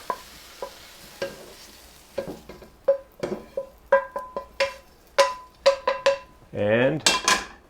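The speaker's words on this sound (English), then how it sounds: "I'm going to toss those back into the mushroom bowl" Browned mushrooms and onions being tossed from a hot pan back into a bowl, heard as a run of close metallic clinks and scraping clatters with a brief sizzling burst near the end.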